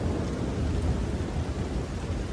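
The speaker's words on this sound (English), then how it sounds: "the sound of rain on your windows" A thunderstorm rolls on with steady, dense rainfall and a deep rumble of thunder underneath, loud and continuous throughout without any voices.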